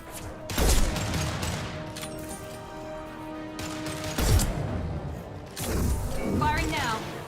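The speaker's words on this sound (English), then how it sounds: "Firing an impact shot." An impact shot weapon fires in Mass Effect 2, with sharp booming discharges at the start, middle and near the end over a humming background, as a voice talks throughout.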